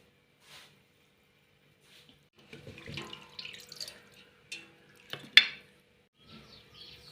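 A pot of fish kuzhambu made with small pond kendai fish bubbles and gurgles on the stove, with soft irregular liquid pops and spatters up close and no talk.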